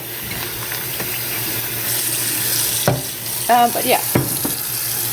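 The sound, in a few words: water running from tap into sink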